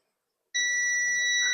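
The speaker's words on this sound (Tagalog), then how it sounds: "Yun, nagkulay green. Nag-buzzer." A smart digital multimeter's continuity-test buzzer sounds after a short silence, a steady high electronic beep that starts abruptly and holds, close and clear.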